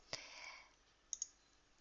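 A computer mouse gives a sharp click, then a quick pair of lighter clicks a second later, close and quiet with nothing else around.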